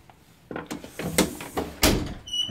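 Old wooden back door of a house opening, with a string of creaks, knocks and thumps from the latch and hinges over a couple of seconds, close and fairly loud with no talking.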